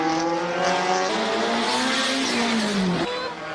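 A Subaru BRZ race car drifts through a hill climb, its engine note rising and falling in pitch against a steady roar, then dropping sharply near the end, with a hint of tire noise.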